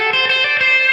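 Electric guitar tone through an amp modeler drenched in heavy reverb, a sustained, dense chord ringing loud and steady with a long wash of ambience and no voices.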